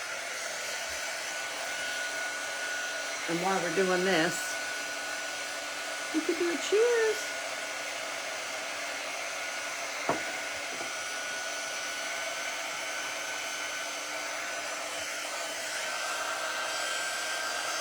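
A hair dryer runs steadily and fairly loud across the whole stretch, drying a craft project, with brief chatter and clinks rising over the constant blowing.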